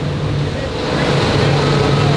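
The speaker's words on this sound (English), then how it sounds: "The boat still has a ton of power. Like I'm half throttle right now, and it's just freaking pushing." A boat at half throttle pushing a helicopter barge on open water gives a steady, loud engine drone over rushing water and wind noise, continuous throughout.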